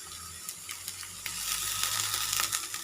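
Three cut dried red chillies and curry leaves crackle and sizzle in hot oil in a pan, a steady bright frying hiss with small pops that grows louder toward the end.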